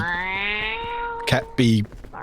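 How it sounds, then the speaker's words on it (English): A cat meows in a long, drawn-out tone, then gives a couple of shorter meows, close and clear, while voices are faintly present. "My cat responded."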